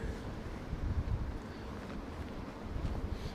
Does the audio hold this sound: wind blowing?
yes